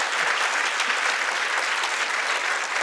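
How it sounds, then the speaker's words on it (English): An audience at an arts symposium gives the speakers sustained, even applause, a dense wash of clapping hands that holds steady throughout. "Round of applause for everyone who's spoken and done all the work"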